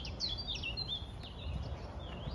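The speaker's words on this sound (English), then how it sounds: "Can you hear the bird song?" Birds chirp and warble in high, repeated phrases at a moderate distance over a soft outdoor background hum, beside a canal in Sheffield.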